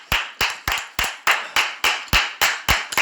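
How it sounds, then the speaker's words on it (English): Loud, single claps repeat in an even rhythm, about three per second, each sharp and close with a short ringing decay and no voices between them. "Big clap"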